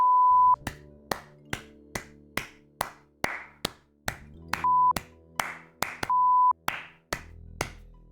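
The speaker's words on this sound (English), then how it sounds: "It's clapping and beeping at the same time." A sound effect from the 1991 computer game EcoQuest: The Search for Cetus, with a steady rhythm of sharp, clap-like hits about every third of a second, joined now and then by short steady electronic beep tones, all crisp and close.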